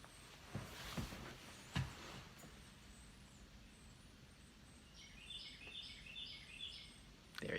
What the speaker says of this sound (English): it isn't raining at the minute, which is why the bird is singing